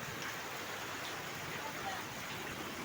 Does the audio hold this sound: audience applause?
no